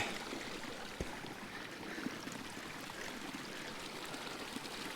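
An alpine mountain stream flows steadily, a close, continuous rushing and babbling of water that stays even throughout with no voices.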